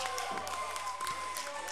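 A crowd at a 2014 FIBA 3x3 World Tour basketball game in Chicago claps and cheers in a steady, moderately loud wash, with a commentator's voice talking over it.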